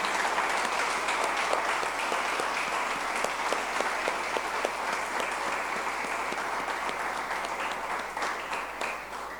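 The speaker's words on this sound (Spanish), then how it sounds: "¿Quiere darle una ofrenda de aplauso a la palabra de Dios?" A church congregation claps in a sustained, dense round of applause after a sermon prayer, filling the room evenly and tapering slightly at the end.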